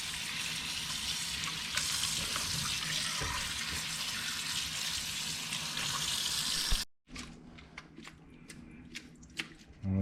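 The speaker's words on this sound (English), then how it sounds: "when you put them in there, you're gonna just rinse them again, right?" Crappie fillets are rinsed under a steady stream of running water, a loud continuous rush that stops abruptly, leaving quieter clinks and light splashes, with voices talking over it.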